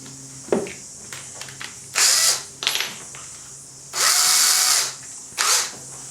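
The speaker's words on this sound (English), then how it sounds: "we'll do the pilot hole for the screw itself" A cordless power drill bores a pilot hole in wood for a screw, close and loud, in three whirring bursts of about half a second to one second, with small clicks and handling knocks between them.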